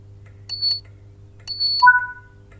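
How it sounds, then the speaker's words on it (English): Two short electronic beeps from the guard's compartment of a BR Class 87 electric locomotive in Train Sim World 5, followed by two answering lower tones, over a steady low cab hum. "The guard has given you the clearance for departure by giving you 2 audible beeps from the NHA guard compartment"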